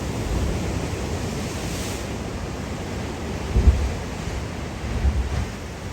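A constant roar of ocean waves crashing on the Oregon coast, with wind buffeting the microphone and a few heavier swells rising near the end.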